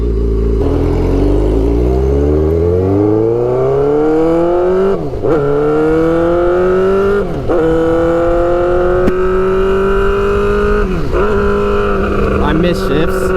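A Suzuki GSX-R600 sportbike engine on a cold road revs up loudly and close, its pitch climbing and then breaking off at several gear changes, with a steady wind rush over the whole run.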